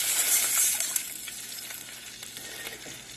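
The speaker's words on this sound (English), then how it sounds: "We'll be back when that sizzles for a little bit." Garlic and red pepper flakes frying in a pan give a bright hiss that surges loudly in the first second as wine goes in, then settles to a softer steady sizzle with a few small clinks.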